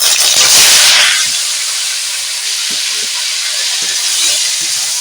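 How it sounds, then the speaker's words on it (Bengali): Potatoes sizzle in hot oil with dried red chilli and panch phoron as they are stirred in a pan, a loud, bright hiss at the start that settles into a steady frying crackle with soft scraping knocks. "আলুটাকে এইভাবে আমি নাড়তে থাকবো"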